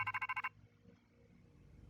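The Rotom phone from a Pokémon video game trailer rings in a quick burst of six bright electronic pulses, then stops, leaving only a faint low background.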